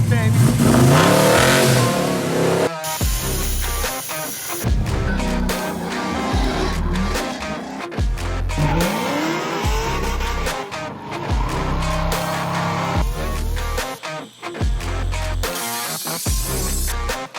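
Ford GT with an aluminum composite body, its engine revving hard and accelerating through repeated surges, loud and close, with a short tire-squeal quality at times, mixed with music-like layered sound and no clear talk.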